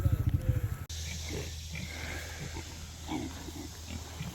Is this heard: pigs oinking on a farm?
yes